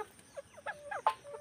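A chicken on a farm clucking softly in a few short broken calls, close by and fairly quiet against a still background.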